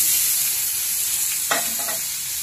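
Pork frying in its own rendered fat in a pan, a loud continuous sizzle with a short stir or scrape midway, close up and without talk.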